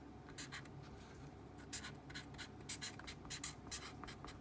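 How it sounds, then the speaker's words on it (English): A pen scratches out words on paper in short irregular strokes, faint and close in a quiet room, with no one speaking. "And now here, we're going to write"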